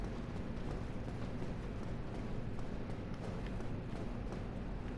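Footsteps of Balder Knights moving around below in Dark Souls Remastered, a continuous dense run of faint armored steps and clatter at steady low volume.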